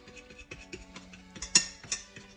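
A fork scraping and tapping against a bowl while mixing cornstarch and salt for pudding, a series of irregular light clicks and scrapes of varying loudness, with no talking.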